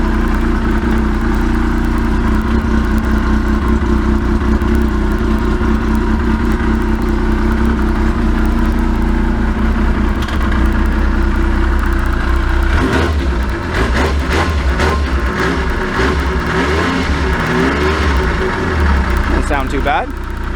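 A 1994 Yamaha Vmax 600 and a 2009 Yamaha Vector snowmobile idling just out of summer storage, a steady, loud, slightly rough engine drone throughout, with irregular clattering bursts toward the end.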